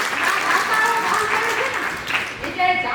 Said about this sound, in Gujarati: વાહ, ખૂબ જ તાળીઓની વધારણી